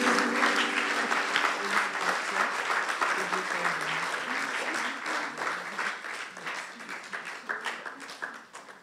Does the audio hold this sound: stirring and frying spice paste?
no